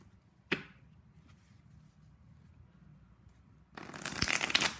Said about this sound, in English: Something's telling me that I am done shuffling.